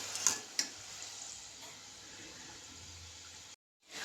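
Kachori fries in oil as a faint, steady sizzle with a couple of soft clinks near the start, then the sound cuts to brief silence at the end.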